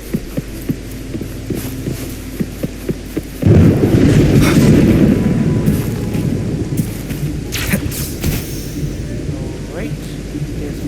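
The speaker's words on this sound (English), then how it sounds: "Alright, it's raining" Rain falls in the video game Wuthering Waves as a steady hiss under a low rumbling hum, with a loud swell of rain or thunder partway through and a voice talking faintly.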